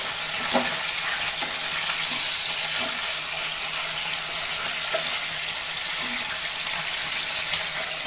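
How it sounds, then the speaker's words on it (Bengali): Chicken pieces fry in a covered pan for a chicken roast, giving a steady, even sizzle with occasional soft pops and crackles throughout. "ঢেকে ঢেকে ভাজলে একটু একটু সিদ্ধ হয়ে যাবে, সেজন্য ঢেকে ঢেকে ভাজবো।"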